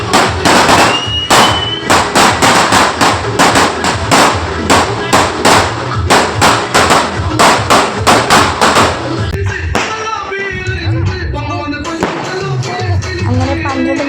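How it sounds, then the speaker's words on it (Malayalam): Firecrackers set off to welcome the 2025 New Year burst in a rapid, loud, close barrage of sharp cracks, thinning toward the end into scattered pops and crackles. "പടക്കമൊക്കെ പൊട്ടുന്നുണ്ട് പുറകിൽ."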